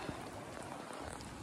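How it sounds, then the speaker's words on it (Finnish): Heavy rain falls during a mountain bike ride, a steady soft hiss of drops close by with no talking. "Vettä vaan sataa ihan saatanasti"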